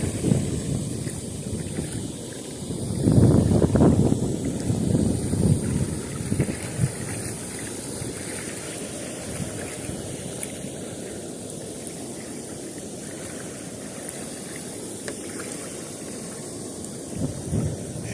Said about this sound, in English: The only thing that sucks is like the wind is blowing right at me